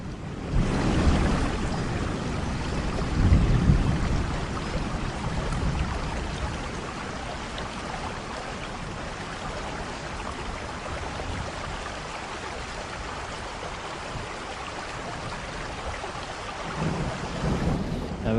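A storm roars with gusting wind, heavy wave noise and deep rumbles of thunder. It is loud and continuous, with stronger surges near the start and the end.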